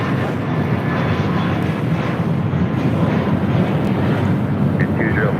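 American Airlines jet at LAX rolling for takeoff on runway 25 right, a steady broadband engine roar with wind noise throughout, heard from a distance.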